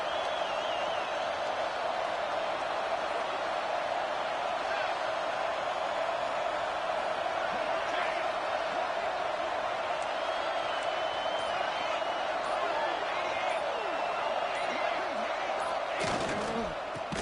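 Stadium crowd noise in a PS5 football video game during a red zone defensive stand, a dense, steady roar from a large crowd that swells slightly at the end, with no talking.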